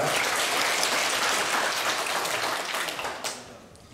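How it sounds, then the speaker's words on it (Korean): A church congregation applauds after worship singing, a dense wash of clapping that holds steady and then thins out toward the end. "다시 한번 찬양으로 영광 받으실 주님께 영광의 박수 올려드리겠습니다"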